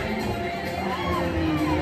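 At a wreck race, a crowd cheers and shouts for the drivers with a continuous wash of voices and whoops, moderately loud and a little distant.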